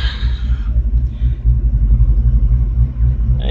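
A warmed-up 1980 Chevy Malibu Wagon with a 6.0L engine idles with a loud, close, deep rumbling throb that stays steady, with no talk.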